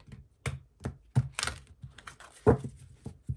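A stiff, thick tarot deck is shuffled by hand, giving a quiet series of soft taps, slaps and papery rustles at an irregular pace.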